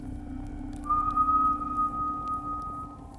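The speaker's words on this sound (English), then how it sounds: "Then the whistle happened again, closer this time, right beside the tent." A thin, eerie whistle sounds as an effect in a scary story set at a campsite, starting after a low drone and holding one steady pitch for about two seconds before fading into the hum.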